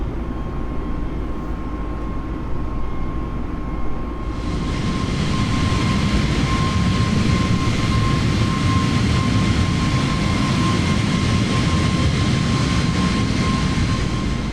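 An airliner climbs after takeoff in Microsoft Flight Simulator on a sunset departure from Preveza, Greece: a steady, loud jet engine roar that swells into a broad, sustained rush partway through, with a constant whine held underneath.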